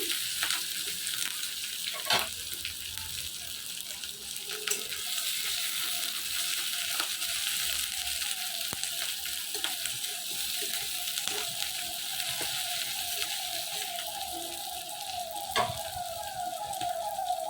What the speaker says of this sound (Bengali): এখন ভালো করে নাড়াচাড়া করে বেশ একটু লালচে করে ভেজে নিচ্ছি